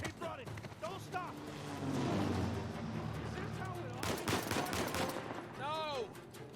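Gunfire in Uncharted 4. Several loud shots and bursts crack amid a rumbling battle din, with voices shouting and talking in the mix.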